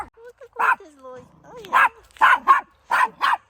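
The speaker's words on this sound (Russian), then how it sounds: "Вот и первая собака, которую я увидела." A dog on a village street barks in sharp bursts, several loud close yaps in quick pairs with a whine between them, while someone talks nearby.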